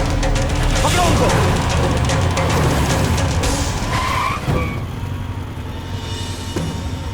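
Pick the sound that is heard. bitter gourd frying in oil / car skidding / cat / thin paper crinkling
car skidding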